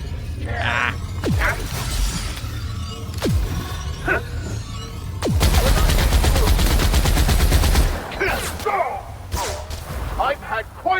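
Gunfire in The Outer Worlds video game: several sharp single shots, then a sustained rattling burst of rapid fire, loud and close, with someone talking between the shots.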